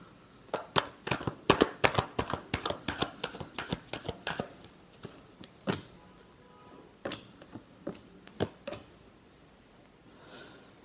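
Tarot cards are shuffled close by: a fast run of crisp riffles and slaps, then slower, scattered taps and flicks that fade to quiet near the end.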